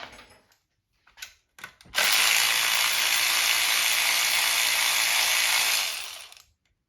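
A tool loosens the 10 mm bolts on the coil packs of a 2012-2015 Honda Civic: a few quick ratcheting clicks, then a loud, steady whir lasting about four seconds that fades out, close up with no talking.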